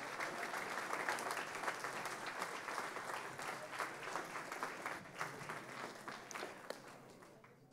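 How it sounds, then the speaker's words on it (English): An audience at a school board meeting applauds teachers, a steady, even wash of many hands clapping that holds for several seconds and tapers slightly at the end, somewhat distant and soft. "Round of applause for the teachers of our students,"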